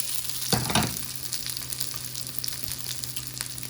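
Chorizo fries in oil in a pan with a steady, close crackling sizzle throughout and a louder hissing burst near the start as it settles into the fat.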